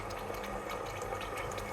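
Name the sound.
water being poured into a boiling pot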